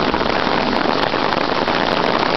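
Hail falls outdoors during a thunderstorm in a dense, continuous patter, with loud steady hiss-like impacts all around and no talking.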